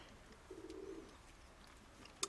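A racing pigeon coos softly in one brief low phrase, faint in a quiet loft, followed by a sharp click near the end.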